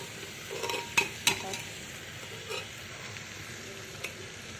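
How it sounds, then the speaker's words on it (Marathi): Rice sautéing in hot oil for masala rice, stirred in the pan: a constant low sizzle with a few sharp spoon scrapes and clinks near the start. "पण परतून घ्यायचं चांगलं तेलात"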